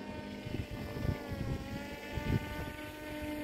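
An RC autogyro's rotor blades spin steadily in flight, a constant whirring drone with faint buzzing pulses, heard from some distance and quiet, with no talk.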